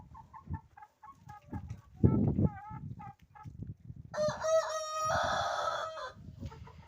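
Hens cluck and murmur in short bursts nearby inside a coop, then a rooster lets out a loud, drawn-out crow before the soft clucking resumes.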